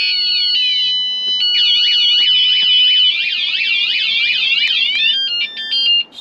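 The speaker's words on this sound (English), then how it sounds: "let's turn that alarm off." A tradesman's van alarm sounding loudly with a fast warbling electronic whoop, repeating steadily before cutting off into brief chirps.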